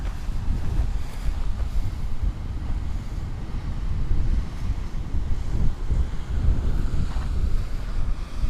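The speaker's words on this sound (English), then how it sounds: "Ocean's calm today." Calm ocean waves wash steadily at the Cabrillo tide pools, with a constant low roar of surf and heavy wind buffeting the microphone throughout.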